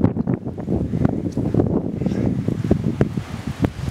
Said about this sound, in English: The trees are blowing pretty good.